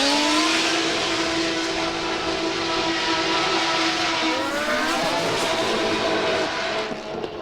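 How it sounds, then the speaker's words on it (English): The Heart of Racing Aston Martin Vantage drift car at a Formula Drift event in Utah, its exhaust blaring a loud sustained note that climbs and shifts pitch while the car holds a long run. "taking a look at that Heart of Racing Aston Martin Vantage. Just an insane exhaust note and a really good run."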